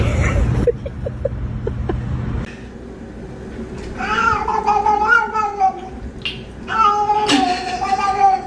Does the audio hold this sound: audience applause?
no